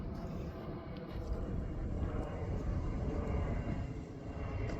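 An airplane circles overhead near Sambhajinagar airport above farm fields, heard as a faint, distant, steady engine rumble with no voices.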